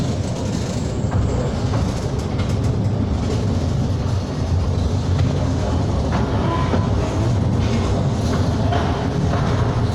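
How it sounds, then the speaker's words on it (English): A Mail Rail underground postal railway train in London rumbles steadily along its tunnel, a dense, continuous low roar with rattling and faint clicks throughout, close and loud with no pauses. "please refrain from leaning on the canopies and doors, as they are sensitive and will stop the train"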